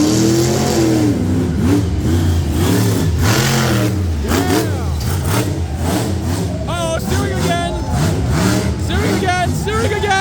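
A monster truck engine roars and revs at a Renegade Monster Trucks show in Frederick, Maryland, loud and close in rising and falling surges, with an excited announcer talking over it throughout.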